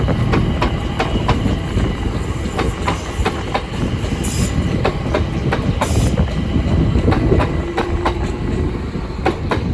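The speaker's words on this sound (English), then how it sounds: "now departing is the 1438 London Overground service from Watford Junction to London Euston" A London Overground train departs Watford Junction toward Euston on the West Coast Main Line near Bushey, its steady rumble and rhythmic wheel clicks running loud and continuous, with a few brief high squeals along the way.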